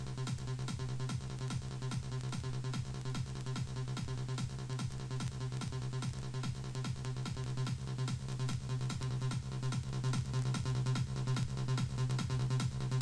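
Psytrance bassline from the PsyShark synth plugin with insert effects engaged, a dense, driving rolling pulse over a constant kick beat, brighter and fuller across the top, continuing steadily with no talk.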